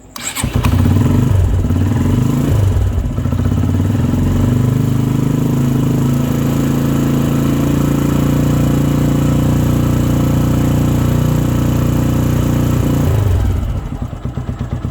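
A motorcycle fitted with a lithium self-start battery cranks and fires, then runs loudly and steadily with revving for about twelve seconds before dropping off, heard alone.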